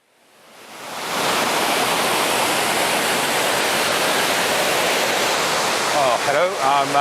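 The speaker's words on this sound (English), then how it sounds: "Hello, I'm now at the second waterfall down the series." A waterfall in a valley of the Brecon Beacons, Wales, roars close and steady with dense, unbroken rushing water. It swells in over the first second, and a voice begins speaking near the end.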